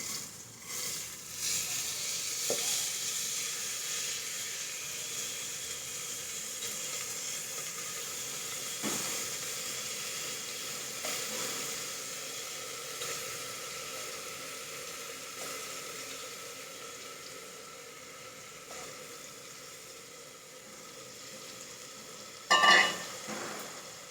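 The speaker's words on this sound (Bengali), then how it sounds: "এবার আমি এই চালটাকে একটু নেড়ে নেব।" Atap rice being stirred in a pan for Bengali basanti pulao gives a steady soft hiss and sizzle, with occasional scraping strokes and a sharper clatter near the end. It is close and faint, with no talking.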